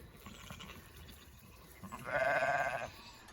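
A single sheep in a pasture gives one bleat of about a second, fairly near, over quiet outdoor background.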